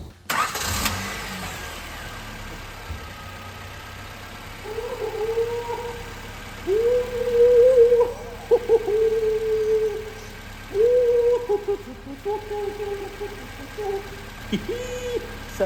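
Thirty-year-old car with only 1,400 km, unused for at least ten years, its engine cranking, catching and settling into a steady idle with a few throttle blips, heard from nearby.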